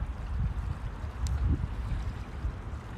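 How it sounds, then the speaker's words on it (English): Ocean waves at sunrise wash against the shore in a low, rumbling churn with gusts of wind buffeting the microphone, the surf swelling and easing in soft uneven surges close by. "The waves sound amazing with your earbuds."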